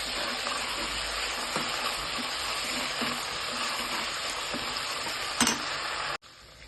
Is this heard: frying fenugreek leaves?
yes